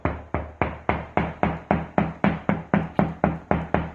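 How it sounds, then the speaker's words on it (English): Repeated knocks on a drywall wall while hunting for a stud, about fifteen firm, evenly spaced raps in a steady rhythm, close and loud with nothing else heard. "So what you can do is you can knock"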